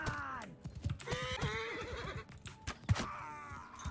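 A horse whinnies sharply in the medieval combat game Mount & Blade 2: Bannerlord, its loud neighs rising and falling amid clopping hooves and thuds of battle close by.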